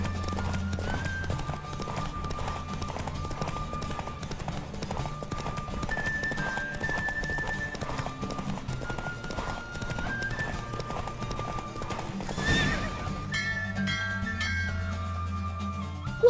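A horse gallops steadily in The Witcher 3 video game, the rapid rhythmic hoofbeats running continuously under sustained game music, with a loud neigh rising near the end.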